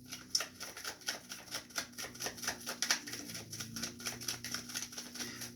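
Tarot cards being shuffled at close range, a rapid papery riffling and patter running steadily throughout, with no one speaking.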